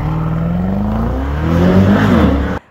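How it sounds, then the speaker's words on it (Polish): A deep, powerful 585-horsepower V8 engine of a Mercedes-AMG GT 63 Coupe revs up close, its throaty growl building then cutting off abruptly. "ten silnik po prostu warczy"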